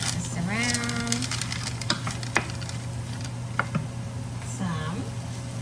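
Frozen peas sizzle steadily in a hot curry pan while being stirred, with scraping clicks from the utensil and a voice talking over the frying.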